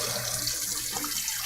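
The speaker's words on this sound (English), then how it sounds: "I'm going to dump this hot water here into the sink with the cold water running" Hot water from a pasta pot poured into a kitchen sink while the cold tap runs, a steady close rushing splash of water throughout with no talking.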